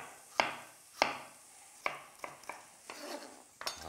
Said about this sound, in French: Mes poivrons, je vais les tailler en lanières.